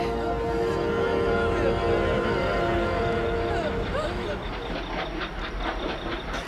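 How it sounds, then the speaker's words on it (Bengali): A train runs along rail tracks in a dramatized horror scene, with a steady rumbling and clattering of wagons under tonal squeals and hiss, continuous and fairly loud throughout. "এই ট্রেনটা এখনো মরেনি,"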